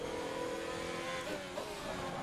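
Race car engine in a racing video game on a wet Zandvoort circuit, droning steadily with shifting pitch as the car heads into turn one during qualifying, close and continuous with no talk.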